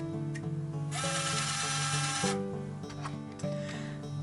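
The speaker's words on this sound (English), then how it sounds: "that's the bolt opening" Motorised bolt of an EloStar FlexID electronic door lock retracting, giving a short close whirring, ratcheting mechanical buzz with a few clicks, heard alone.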